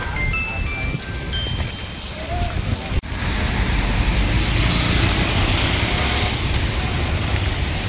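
Rain pours steadily at a farmhouse during the monsoon, a dense, even hiss that grows louder after a brief thump partway through, with people talking faintly underneath.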